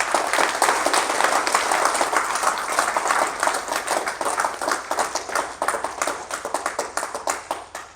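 Audience clapping at a class in Ongole, a full burst of applause that gradually thins into scattered claps toward the end.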